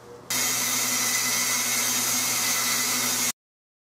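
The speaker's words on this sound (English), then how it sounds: "So I'm going to go ahead and bandsaw that off." A bandsaw cuts the excess off a 16-gauge side-by-side shotgun's wooden stock, a steady loud whine and hiss that starts abruptly, holds for about three seconds, then stops dead.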